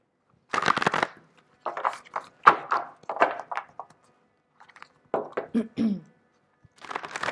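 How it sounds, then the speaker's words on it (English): Voyager tarot cards are shuffled in short riffling bursts separated by pauses, close and fairly quiet. "let's go back to shuffling the Voyager deck"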